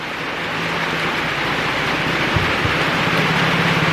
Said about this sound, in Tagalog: Ang sarap pakinggan ng buhos ng ulan